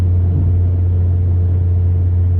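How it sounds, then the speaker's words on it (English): Steady drone of the 1.8-liter four-cylinder in a 2017 Chevrolet Sonic hatchback with a four-speed automatic, cruising on the interstate above 65 mph; a constant low hum with road rumble, continuous and even, no voices. "So it's a noisy engine,"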